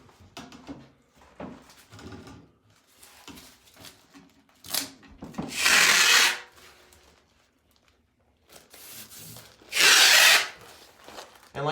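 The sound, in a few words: masking machine applying masking tape along ceiling edge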